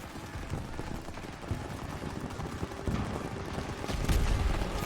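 Rapid gunfire in the Call of Duty WWII video game, a sustained, dense crackle of rifle and machine-gun shots mixed with rumbling battle noise that swells louder near the end.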